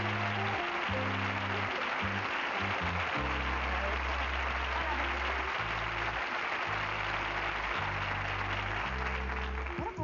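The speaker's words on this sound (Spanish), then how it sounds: "Y este fuerte aplauso del público para ellos." A studio audience applauds steadily on a 1984 Spanish television game show, a dense wash of clapping that runs throughout under loud music.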